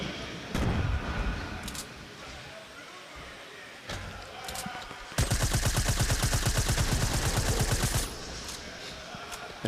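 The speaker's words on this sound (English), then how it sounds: "why is he using an SMG there? It's because he's trying to break through that wall because he's low on AR ammo." SMG fire in Fortnite rips into a wall, a fast rattling burst of shots lasting about three seconds after scattered game sounds, with a commentator talking throughout.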